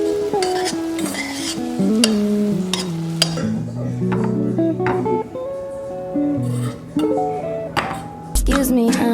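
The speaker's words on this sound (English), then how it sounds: "I'm now gonna go ahead and cook these on the stove" Ramen noodles cooking in a pot on a home stove bring scraping stir strokes, light metal clinks and a low sizzle, heard close and in irregular bursts beneath other prominent sounds.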